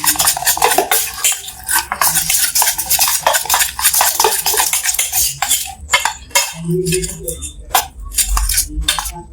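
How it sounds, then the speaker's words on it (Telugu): Mysore pak batter mixed with a spoon or whisk in a bowl, loud, close, rapid rhythmic clinking and scraping of metal against the vessel, continuing without pause. "స్పూన్తో కానీ విస్కర్తో కానీ మంచిగా ఉండలు లేకుండా మిక్స్ చేసుకోవాలి"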